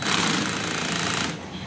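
A cordless drill with an adjustable torque clutch runs in a loud, steady whirring buzz for most of a second and a half, then drops off as the clutch stops it.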